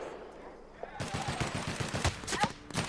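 Gunfire in The Outer Worlds video game, a short burst of rapid repeated shots starting after a quiet second, loud and close, with a voice faintly audible underneath.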